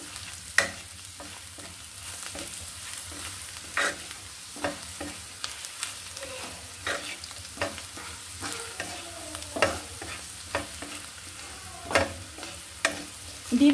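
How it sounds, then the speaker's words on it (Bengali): Spices with turmeric, chili powder and salt sautéed in a pan, with a steady low sizzle broken by repeated scraping stir strokes and spoon knocks against the pan, no talking. "এটা আমি একটু কষিয়ে নিব।"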